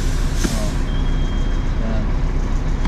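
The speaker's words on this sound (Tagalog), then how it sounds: "Parking brake. Hila mo lang, oh. Hila." Parking brake being released on a HOWO trailer truck, a sharp burst of air hissing out near the start over a steady low engine idle, with a faint tone and brief hiss later.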